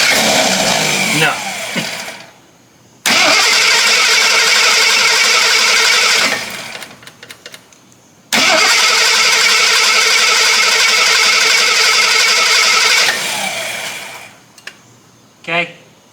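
The engine of an old Jeep that sat unused for 25 years cranks loudly in two long bursts of several seconds each, separated by pauses with a few brief sputters. It does not catch.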